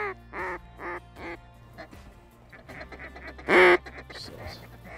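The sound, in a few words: flock of mallard ducks quacking in a field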